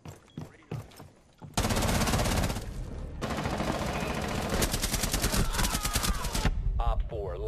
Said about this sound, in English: Just shoot the wall.